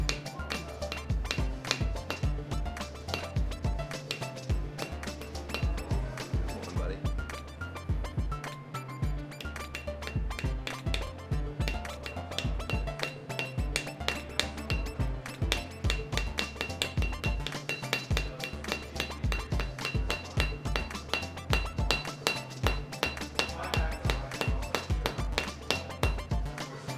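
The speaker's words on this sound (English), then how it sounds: "We're going to break them with a hammer" Repeated hard metallic hammer strikes on body jewelry resting on granite ring out in an irregular rhythm, loud and close, with a brief spoken remark.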